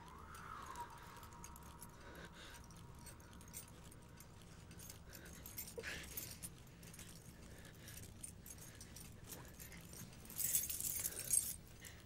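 Keys jangle close by in a quiet room, a soft metallic shaking that runs through the clip and grows louder and busier near the end, with a faint rattle partway through.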